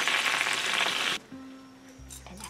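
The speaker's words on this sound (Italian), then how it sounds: "Considerate che le uova dovranno friggere almeno 7-8 minuti." Scotch eggs deep-frying in hot oil make a loud, dense sizzle that cuts off abruptly after about a second, followed by quiet kitchen background and a low hum.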